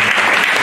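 A church congregation applauding, a dense burst of close clapping heard only for a brief moment.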